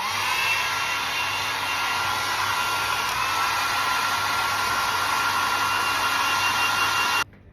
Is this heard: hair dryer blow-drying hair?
yes